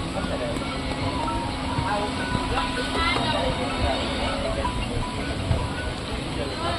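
Train pulling out of Chital railway station on the Bhavnagar–Porbandar route: a continuous broad rumble and hiss of rolling carriages, with faint clatter underneath and voices talking nearby.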